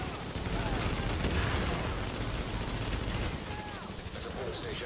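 A legendary shotgun blasts repeatedly in The Division during a Resistance wave at Pier 93, loud continuous gunfire and chaotic combat noise filling the whole stretch, with a voice partly buried under it.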